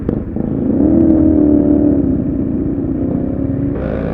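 Motorcycles, one a Dominar 400 fitted with an aftermarket pipe, ride along a road, their engines droning loud and steady with a rising rev partway through, close to the microphone and with no talking.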